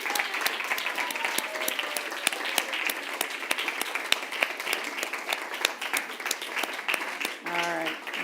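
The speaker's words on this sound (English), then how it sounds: "let's welcome our members officially with applause" A church congregation gives sustained applause to welcome new members, dense clapping running throughout, with a voice speaking briefly near the end.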